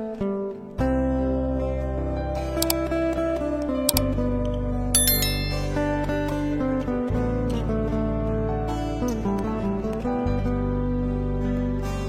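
A synthetic notification bell effect rings out loudly, with bright chimes struck a few times over a sustained, steady electronic musical tone, with no talking.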